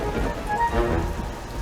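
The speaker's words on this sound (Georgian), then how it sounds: "წვიმაც იწყება." Steady rain patters continuously in a cartoon as campers set up a tent, a dense, even hiss of drops with no pauses throughout.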